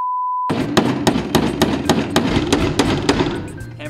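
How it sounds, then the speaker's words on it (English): A hammer drives a nail into the wooden wall of a birdhouse, striking about a dozen sharp, evenly spaced blows close up. A brief steady tone comes before the strikes. "You just take your handy dandy nail, you grab your handy dandy hammer,"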